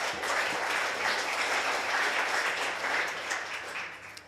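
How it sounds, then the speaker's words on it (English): A conference audience at a Python developer event applauds to welcome a speaker to the stage, a full wash of many hands clapping steadily, then thinning slightly near the end. "So please welcome Prashant with a big applause."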